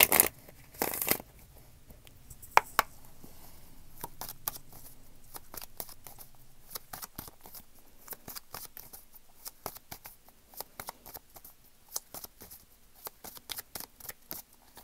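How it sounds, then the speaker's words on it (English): Tarot cards are shuffled and laid out close by, with soft papery riffles and scattered light flicks and taps as cards land on a surface, mostly quiet between the clicks and with no talking. "I'm going to shuffle the cards and I'm going to lay them out."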